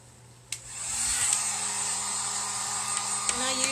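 A two-heat-setting heat gun on its lower setting, drying a cutting board. It clicks on and settles into a steady, airy whir with a faint hum, holding constant and close with small knocks and clicks.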